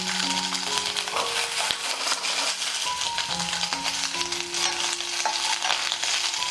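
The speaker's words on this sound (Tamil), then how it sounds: "இப்போ மீதி வெங்காயத்தை இதில் நம்ம போட்டுடலாம்" Onions sauté in a pan for an egg gravy, a dense steady sizzle and crackle with a spoon stirring and scraping throughout, close and loud.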